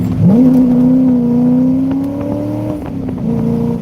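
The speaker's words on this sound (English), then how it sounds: "Downshift and floor it." A Chevrolet C5 Corvette downshifts and accelerates hard near houses, its engine note jumping up and then climbing steadily in a loud, close roar before a brief dip and recovery.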